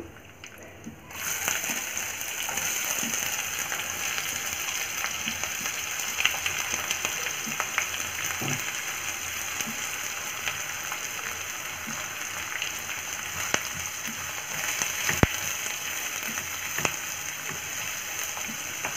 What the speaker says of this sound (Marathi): आता यामध्ये मी कांदा घालत आहे